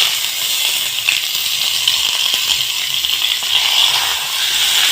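Eggplant pieces sizzle in a little oil in a pan with coriander leaves, making a steady, loud crackling hiss throughout, with faint clinks and no talking.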